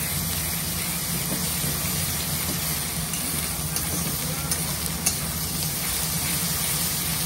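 Ginger paste fries in a hot pan with a steady, loud sizzle and hiss that holds even throughout, with a few faint scraping stirs here and there.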